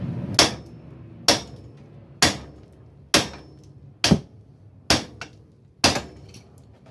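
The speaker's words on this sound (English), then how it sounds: "a whack right here on this edge with a metal hammer" A metal hammer strikes the edge of an ATV wheel hub during a wheel bearing and ball joint change. Seven sharp, loud, ringing metallic whacks land about once a second, each decaying quickly.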